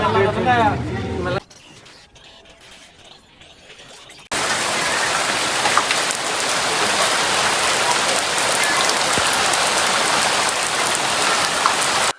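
Steady, loud rainfall pours down close by in a Pakistani village, a dense hiss of drops hitting surfaces, after a brief moment of speech and a quieter stretch.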